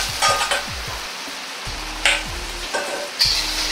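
Beaten eggs sizzle steadily in a hot, oiled wok while a Chinese-style meat omelette cooks, with a metal spatula scraping and tapping the pan at intervals.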